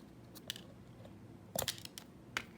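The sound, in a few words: scissors cutting Dollar Tree ribbon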